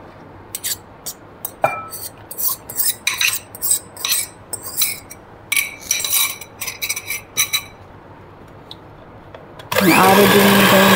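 Banana mixture and egg whisked together in a bowl for banana walnut muffins: quick, irregular metallic clinks of a utensil against the bowl, then a sudden loud, steady whirring at the end.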